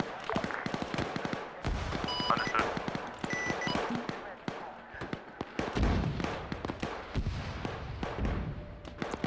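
Gunfire near a church in the military video game Arma 3 sounds as rapid cracking shots and bursts, some close and sharp, others more distant, scattered irregularly across the clip with faint radio chatter.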